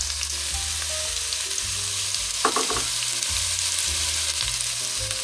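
Onion and carrots frying in a pot for cabbage roll soup, with a steady close sizzle, a brief clatter of stirring partway through, and low steady tones underneath, with no voices.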